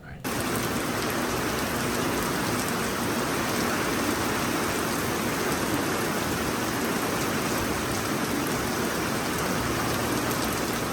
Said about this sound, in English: I think I got some good shots of the pouring rain.